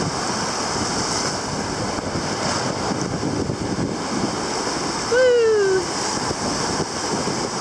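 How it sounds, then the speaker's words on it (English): Loud ocean surf rolling onto a beach in a steady, broad wash with wind buffeting the microphone, and a brief bird-like squeal near the end. "can hear the surf from our place. It's really loud today."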